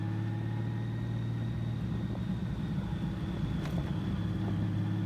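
A Honda Valkyrie motorcycle rides along in second gear after the clutch is let out, giving a steady, low droning engine rumble with a faint whine, even and continuous throughout.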